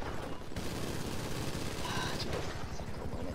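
Rapid bursts of gunfire crackle in a police video game standoff, dense repeated shots like a fusillade running throughout, fairly loud, with voices mixed in.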